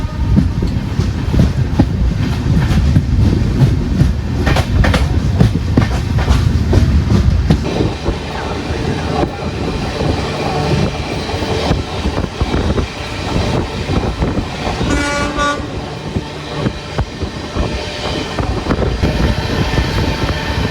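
A passenger train on an Ernakulam round trip, routed via Kottayam, runs loud and close with a continuous clickety-clack rumble and some wind buffeting, without any speech.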